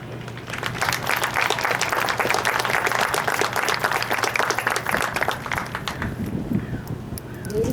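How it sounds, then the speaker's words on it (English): An audience at a Marine Combat Training graduation ceremony applauds in a dense, sustained burst that fades toward the end. "please join us in a round of applause for his devotion to country, corps, and fellow Marines."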